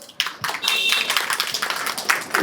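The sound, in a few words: audience clapping loudly for the poets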